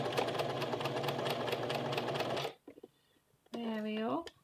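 A sewing machine stitches a seam in a steady rapid burst for a couple of seconds, then stops; after a pause a short mechanical whir follows.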